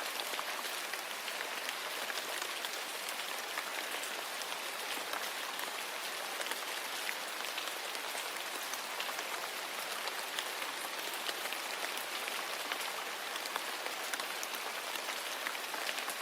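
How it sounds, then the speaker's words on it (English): Heavy rain falls steadily and evenly as a dense, continuous hiss of drops on surfaces, unbroken and without voices throughout. "The rain kept falling."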